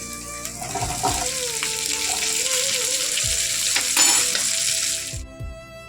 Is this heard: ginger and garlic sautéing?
yes